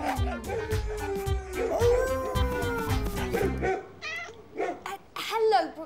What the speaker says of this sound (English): Waffle! Waffle, please stop howling.